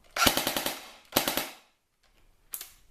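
An Umarex UMP45 airsoft gun fires full auto in three bursts, each a rapid mechanical rattle of gearbox shots. The first two bursts are close and loud, and a short, fainter third burst follows after a pause.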